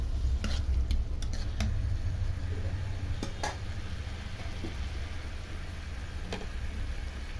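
Fried eggs being stirred into a gourd curry in a pan make a steady close scrape and clatter of a spoon against metal over a continuous low sizzle, with a few sharper knocks of utensil on pan.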